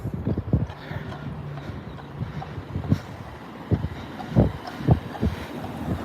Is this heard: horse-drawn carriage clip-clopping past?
yes